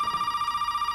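A telephone in the horror video game Resident Evil 7 rings with a rapid, trilling electronic bell, steady and clear, heard alone for about a second.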